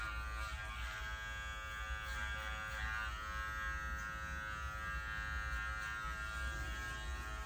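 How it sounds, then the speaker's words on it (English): An Artero Spectra electric clipper fitted with a 10 blade trims the corners of a Shih Tzu Bichon mix's eyes, giving a steady, close, unbroken buzzing hum throughout. "Around the eyes, I'm going to use a Artero Spectra clipper with a 10 blade."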